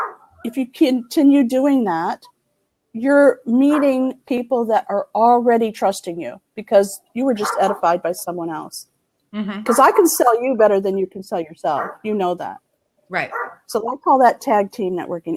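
A female dog barks and yips intermittently in the background of a home office while a person keeps talking over it throughout.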